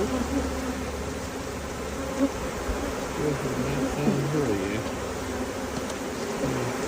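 Honey bees, including drones, swarm around a backyard beehive, giving a dense, steady droning buzz that fills the space at close range, with faint background voices.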